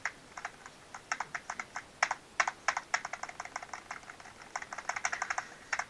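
Rapid typing on a computer keyboard, with crisp key clicks in quick irregular bursts, close and clear with no talking over it.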